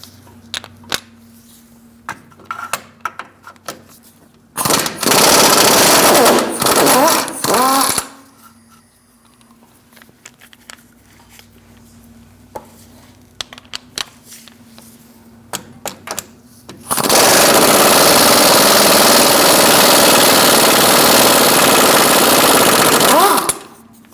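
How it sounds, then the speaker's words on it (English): A power tool with a 17mm socket zips transmission mount nuts off a 2002-2006 Toyota Camry in two long loud buzzing bursts, separated by clicks and clatter of handling. "Using a 17mm socket, we're going to remove this nut"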